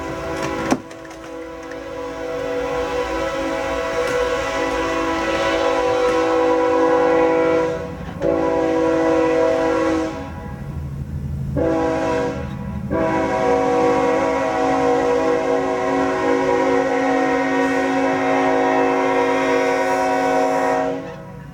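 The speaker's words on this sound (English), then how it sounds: "Got a train coming here." A train rumbles past close by, its loud, sustained horn blaring for long stretches with brief breaks, over steady rail noise.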